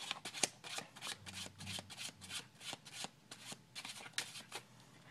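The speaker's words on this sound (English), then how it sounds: "we'll cut the cards once, and maybe give them a shuffle as well" Rapid papery riffling of playing cards being shuffled, a quick series of crisp flicks and rubs close by, with no talking.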